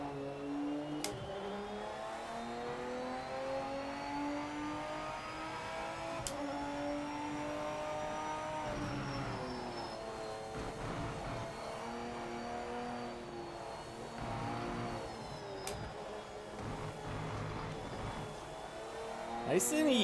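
A race car in Project Motor Racing revs and drops through downshifts, its engine drone swinging up and down in pitch throughout, with a steady in-game roar and a voice talking faintly underneath.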